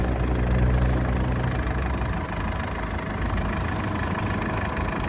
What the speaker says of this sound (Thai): ลองฟังรอบของเครื่องดูนะครับ เครื่องมันจะไม่มีวิ่ง สะดุด เครื่องจะวิ่ง เครื่องจะเสียงรอบมันจะ สม่ำเสมอนะครับ